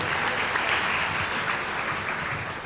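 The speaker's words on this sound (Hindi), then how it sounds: "जरा तालियां बजा दीजिए जरूर" Audience at a Jain spiritual question-and-answer gathering with a revered monk, clapping together in a steady, dense wash of applause that stays loud and even from start to finish.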